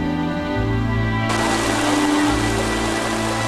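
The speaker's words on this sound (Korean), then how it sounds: "오후엔 마을에 갑자기 소나기가 쏟아졌습니다." Sudden rain shower pouring over a village: a steady, dense hiss of falling rain that swells abruptly and stays loud, over a low rumbling background, with no voices.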